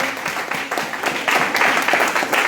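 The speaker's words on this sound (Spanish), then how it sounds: "Den un aplauso al Señor, aleluya." A church congregation at a Spanish-language service claps loudly and steadily, dense applause filling the room with no talking over it.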